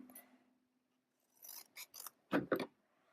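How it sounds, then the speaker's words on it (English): Scissors cut paper in a crafting session: a short snip around 1.5 s, two more quick cuts, then two louder, crisp closing snips near the end, close by with quiet pauses between. "Yeah, let's cut a piece off that."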